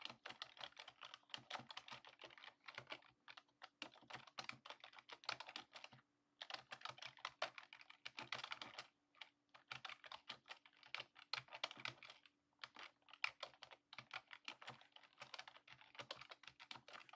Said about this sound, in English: Just typing in the metadata for the next stream here for everybody.